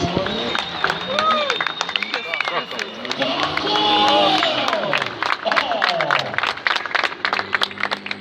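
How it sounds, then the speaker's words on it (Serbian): Spectators clap at a 2017 drift event in Čačak, the applause building in the later seconds while an announcer talks loudly over it and engine tones rise and fall in the background. "Ale veliki aplauz!"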